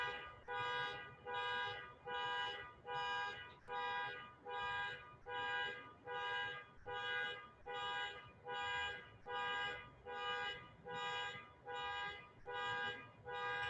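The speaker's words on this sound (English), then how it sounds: "the sound of Om comes to me in the form of a honking car" A car horn honks outside in a long, regular series of evenly spaced toots, muffled and distant at low volume, repeating steadily for about fourteen seconds with no voices over it.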